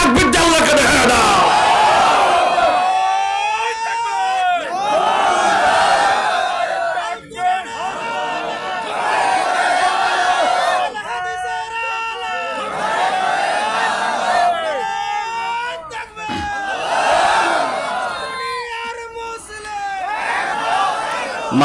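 A large crowd at an outdoor Islamic sermon shouts a takbir chant in repeated loud, roaring waves, with brief dips between call-and-response bursts under amplified echoing voices.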